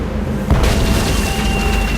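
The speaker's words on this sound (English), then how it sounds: "it's one of those spiffy new Hungarian easy-action cannons I've been begging Elaine to let me buy." A Hungarian easy-action cannon fires in the Tales of Monkey Island video game, a single loud boom that rises out of a steady rumbling background and then decays into a sustained roar.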